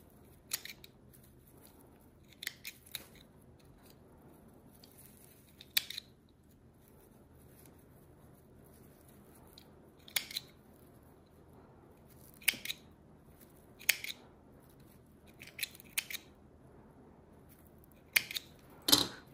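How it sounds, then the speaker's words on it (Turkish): Scissors cut small pieces one at a time while a horse-figure bag charm is being made. Quiet, crisp snips come singly or in short pairs, spaced a few seconds apart, over a near-silent background. "Her birini tek tek kesiyorum."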